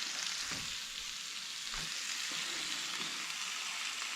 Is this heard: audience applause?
no